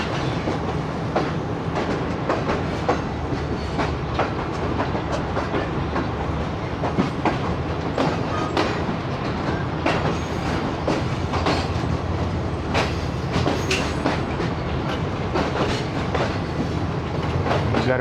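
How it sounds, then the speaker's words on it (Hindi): Shalimar Express running through Khanewal Junction without stopping, with a steady loud rumble and rapid clickety-clack of wheels over rail joints heard from inside the train. "खानेवाल जंक्शन पहुंच गई है ट्रेन।"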